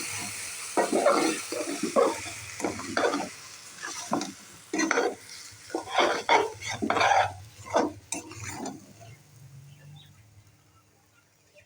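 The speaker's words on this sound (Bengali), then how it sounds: "এবার এতে আমি ধুয়ে রাখা চাউলগুলো দিয়ে দেব।" Washed rice stirred into hot oil with cardamom and cinnamon, a burst of spatula scrapes and sizzling strokes against the pan, loud and close, then fading to quiet.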